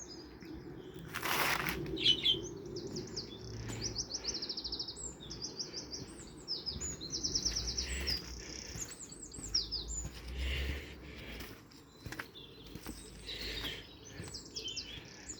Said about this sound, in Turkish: Burada benim ufak kuş kafesi.